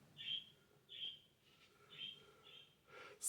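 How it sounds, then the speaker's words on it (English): Birds call outside in a repeating series of bright, chirping notes, about five calls spaced roughly half a second apart, moderately loud against a quiet indoor background. "Holy crow, those birds are loud today."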